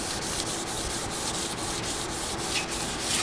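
An old 17-foot Grumman canoe being sanded by hand to blend in a slurry and straighten the grain, producing steady rhythmic rasping strokes, close and loud, with no voices.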